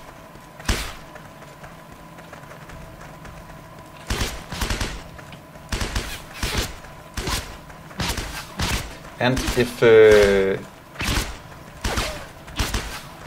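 Repeated bursts of video game gunfire fired while standing still during a sound occlusion test, sharp broadband shots spaced through the clip with a brief louder burst near the end, a short spoken phrase in between.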